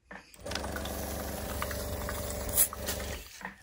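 A model steam engine (Mamod SP2, Wilesco D16 or Stuart S50 type) driven by compressed air runs with a steady, rapid chuffing and mechanical whir for several seconds, close and continuous, with a slight watery hiss from water in the cylinder.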